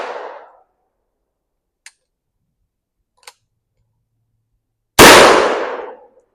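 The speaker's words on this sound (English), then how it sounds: "we've got one 22 Hornet loaded up and one 410 shotgun shell. We're going to see how many of these clays we get." A single loud, sharp blast from a TPS M6 survival rifle firing .22 Hornet or .410 shotgun shells outdoors at a range, decaying over about a second, preceded by two faint isolated clicks in near silence.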